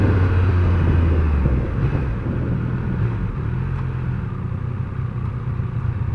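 A 2021 Triumph Speed Triple 1200 RS motorcycle engine drones steadily while riding, a low continuous rumble with slight shifts in pitch, wrapped in loud wind rush.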